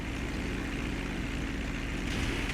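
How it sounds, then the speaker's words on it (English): A Sparrow helicopter in GTA 5 Online, a flimsy light chopper, flying with a steady dense engine and rotor roar that stays loud and unbroken, with no voices. "The Sparrow helicopter is basically a car windshield with a lawnmower engine and PVC pipe put together with duct"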